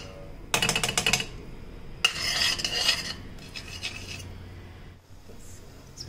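Paneer sautéing in butter in a pan makes bursts of scraping and clattering as a utensil stirs and rubs against the metal, with quieter sizzling between the strokes.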